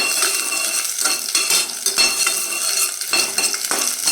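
A spatula stirs and scrapes garlic and urad dal roasting in a pan over a low flame, with repeated metallic scrapes and clinks over a faint, steady sizzle.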